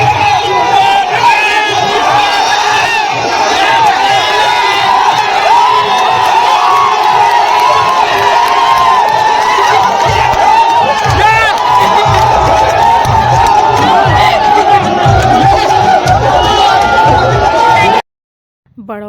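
A crowd cheering at an office Sunday outing game: loud, continuous shouting, whooping and excited voices, with children's yells mixed in. The din stays close and steady for about 18 seconds, then cuts off abruptly.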